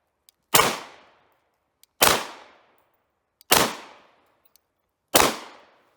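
Four sharp, loud shots from a FEG P9M 9mm pistol at a range, spaced evenly about one and a half seconds apart, each with a short decaying ring.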